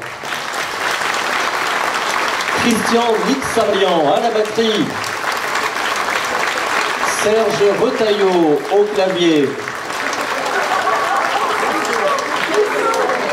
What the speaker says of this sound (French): je vais vous demander d'applaudir les musiciens